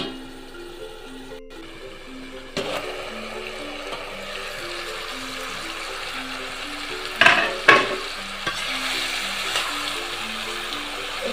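Grass carp and white gourd fish curry simmering under a lid gives a steady, moderate sizzle and bubble, with a couple of brief clatters near the end.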